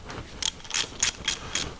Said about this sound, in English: So grab a 13mm wrench again.